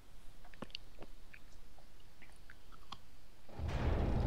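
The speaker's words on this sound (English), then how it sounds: "I can hear that chewing." Wet, crunchy chewing and gnawing sounds from a creature in the sci-fi horror game Dead Space 3, faint and scattered against low ambience before a louder rumbling swell at the end.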